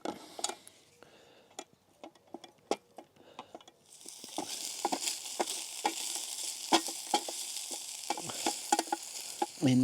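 Sausage and onion fry in a pan, starting with quiet scraping taps as the meat is broken up, then a loud sizzle swells in partway through under continued irregular stirring and scraping; no voices.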